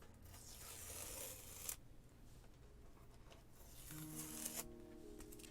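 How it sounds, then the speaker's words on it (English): Masking tape peeled off a gouache painting of a robin, with a long tearing strip sound, a short pause, then another quieter peel near the mic; no talking. "I'm going to go ahead and get this tape pulled off."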